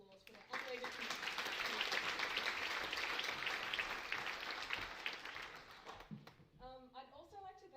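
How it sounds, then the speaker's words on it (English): A crowd applauds steadily at a showcase night, a dense wash of clapping that holds for several seconds, fades, and gives way to a voice speaking at the end. "can we please give them a massive round of applause for their unwavering commitment"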